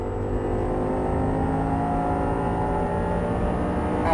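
Audi R8 V10 on a Las Vegas track pulling hard at full throttle just after an upshift, a loud, steady, close engine drone with rising pitch and no talk over it.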